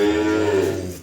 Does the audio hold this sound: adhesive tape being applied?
no